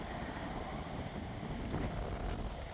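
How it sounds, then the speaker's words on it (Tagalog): Strong wind blows steadily outdoors, a faint, even rushing hiss with no breaks. "Ang lakas ng hangin."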